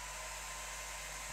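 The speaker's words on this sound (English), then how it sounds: "I'm going to try a very quick blast with the hairdryer" A hair dryer blows with a steady, even whoosh and hum at close range, with no talking.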